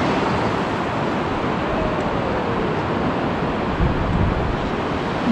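Sea waves wash steadily onto the wide beach below the Hunstanton cliffs, a loud, continuous surf roar with wind buffeting the microphone.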